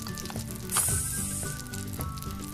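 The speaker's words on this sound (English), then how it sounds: "can you hear that sizzle?" Steady sizzling of a burger patty frying in a hot pan, continuous crackle with a brief louder hiss burst partway through, no talking.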